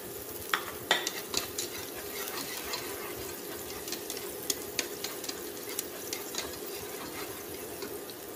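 Onion and garlic fry in a little oil in a pot, giving a steady soft sizzle broken by occasional light scrapes and clicks of a stirring utensil, fairly faint and with no talking.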